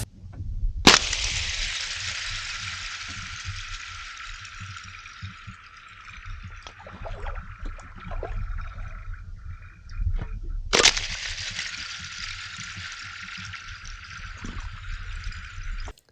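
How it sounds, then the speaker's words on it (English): Ice sheet being cracked and crushed outdoors, two sharp loud breaks each followed by a sustained hissing, grinding rush of shattering fragments, with low rumbling between. "But man, I had so much fun crushing the ice."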